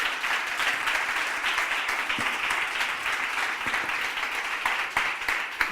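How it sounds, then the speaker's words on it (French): Audience applause for the winner of an EdTech prize, the MGEN EdTech trophy, at an award ceremony, a loud, even burst of many hands clapping that continues steadily for several seconds. "Bravo, vous pouvez applaudir fort"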